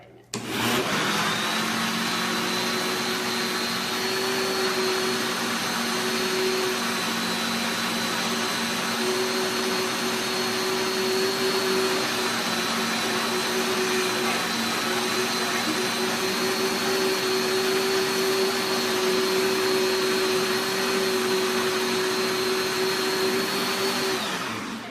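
A blender whirs loudly and steadily for the whole stretch, blending keto pumpkin pancake batter, starting abruptly and holding an even motor drone throughout.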